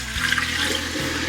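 Water poured into a bowl while mixing deep dish pizza dough, a short splashing gush of liquid at moderate loudness with no talking.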